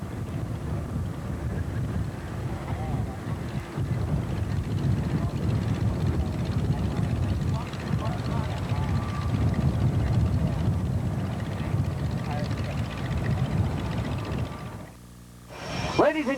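A 1941 Piper J3 Clipped Wing Cub with an 85-horsepower engine dives over an airfield at an air show, its engine drone steady and moderately distant under wind, fading near the end.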